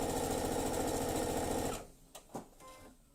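A sewing machine runs steadily, stitching the top and bottom seam of a fabric cutlery pouch, loud and close for under two seconds, then stops, leaving a few faint clicks and handling sounds.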